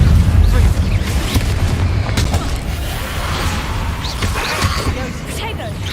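Fiery Confringo blasting spells from a Harry Potter video game burst in a dense, rumbling barrage with sharp cracks, layered under steady in-game combat noise and a talking voice.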